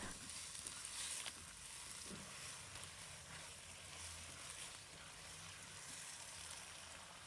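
Chinese broccoli (gai lan) being stir-fried in a wok with oyster sauce and a starch thickener, heard as a faint, even sizzle with soft stirring scrapes, fairly distant and without speech.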